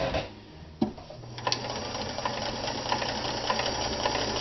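A vintage Kenmore 158.14100 sewing machine runs a honeycomb stretch stitch at wide zigzag and long stitch length, a loud steady mechanical whir with rhythmic ticking after a brief start-up knock.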